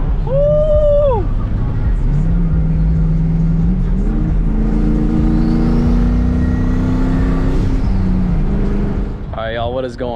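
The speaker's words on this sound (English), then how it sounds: "We're getting the two-step under this bridge." Car sitting on two-step launch control under a bridge, engine held at a steady high rev with crackling bursts echoing off the concrete, a voice calling out briefly at the start and again at the end.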